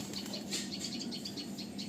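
A released pigeon flaps its wings in a quick, faint series of soft fluttering beats with no voices.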